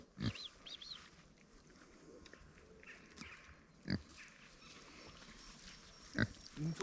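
A pig grunts in short bursts, with a couple of louder snorts standing out against a quiet background of faint bird calls.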